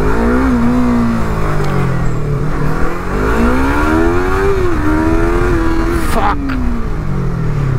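A Yamaha R3 motorcycle, modified in MotoGP edition styling, revs hard at full throttle, its engine note climbing and falling in steady loud sweeps, close and continuous for the whole stretch.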